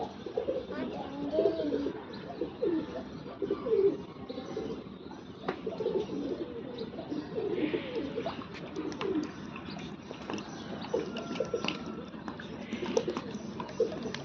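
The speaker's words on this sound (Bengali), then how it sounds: "ওসমান এবারে কবুতর খাবে।" Pigeons coo in low, soft repeated calls amid a busy chorus of chirps and wing flutters, with faint voices in the background.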